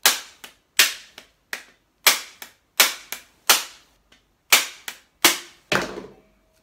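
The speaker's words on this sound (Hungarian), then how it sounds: "Ez itt a kemény gumikalapács, ezzel fogom most megpróbálni elsütni a fegyvert." A hard rubber mallet repeatedly striking a Sig Sauer P320 pistol: about a dozen sharp, close impacts in an irregular rhythm, some in quick pairs, with short silences between and no talk.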